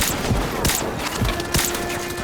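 Video game gunfire fired through a wall crackles in a loud, chaotic volley of sharp shots and thuds, closely spaced and irregular.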